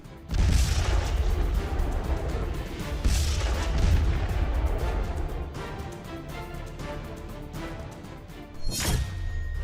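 Heavy booms and crashing blasts from a Russian attack on Kyiv, several deep impacts rolling out in succession with a sharp, loud burst near the end, no voices.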